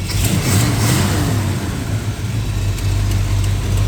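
1966 Ford Mustang V8 at operating temperature with the idle set low, a loud, steady, rumbling idle with a slight swell in revs early on, close to the car and with no talking.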